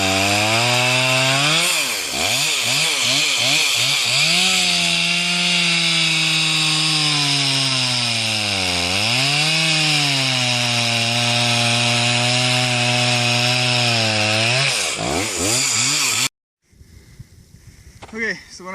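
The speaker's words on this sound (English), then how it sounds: "when I cut with the chainsaw" A loud chainsaw roars continuously, its pitch dipping and rising as it cuts a hole through ice, then cuts off abruptly leaving faint scraping.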